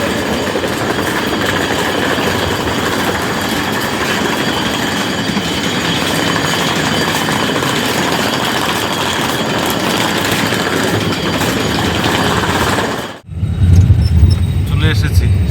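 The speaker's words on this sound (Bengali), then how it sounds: "আর এখন মাত্র ব্যাঙ্গালোর স্টেশনে ঢুকলাম।" A train pulls into Bangalore railway station, a steady loud rumble of wheels and carriage noise heard from on board, cutting off abruptly near the end into louder low rumbling.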